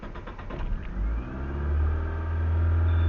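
Proton Waja car engine with a fresh spark plug change cranks and catches, then settles into a loud, steady high idle with a deep low rumble, close by and with no talking.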